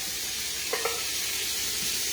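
Chickpeas and tomatoes sizzle steadily in a hot pan, a constant bright hiss with a couple of soft clinks partway through.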